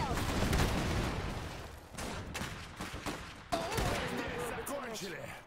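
Battle gunfire from the Iron Harvest video game, a cluttered run of sharp shots, bursts and impacts that rises and falls in loudness, with brief breaks and a few tonal in-game effects.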